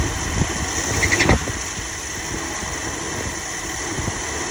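A van engine runs after being started, giving a close, steady idling rumble with a brief louder rev or rattle early on before settling into an even drone.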